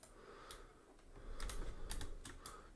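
Computer keyboard arrow keys pressed during a Photoshop walkthrough, a few quiet, separate clicks spaced irregularly over a soft background hiss, with no talking.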